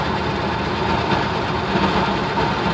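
Inside a moving 1990 Honda Civic, the speedometer makes a continuous whirring, rattling noise that stays steady and fairly loud over the road and engine drone.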